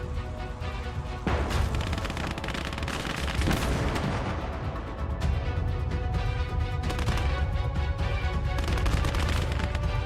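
Gunfire and artillery in the WWII video game Call to Arms: Gates of Hell, with dense crackling rifle and machine-gun fire and heavy booming blasts rolling continuously around a tank under enemy fire.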